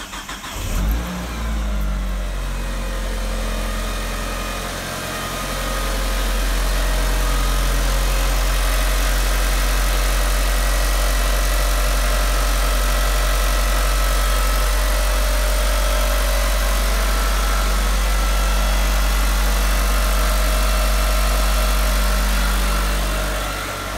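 A Mitsubishi Galant VR4 RS engine cranks and catches, then settles into a steady, close idle that runs on evenly.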